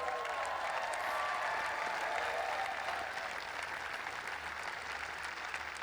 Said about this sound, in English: Please stand up, give them a round of applause.